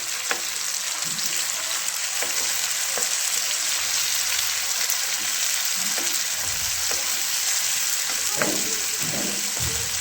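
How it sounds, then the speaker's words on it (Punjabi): Tomatoes fry in a pan for sangri sabzi, giving off a continuous loud sizzle with occasional soft stirring scrapes, heard close up and alone. "ਹੁਣ ਟਮਾਟਰ ਵੀ ਆਪਾਂ ਨੇ ਭੁੰਨ ਲਈ ਵਧੀਆ"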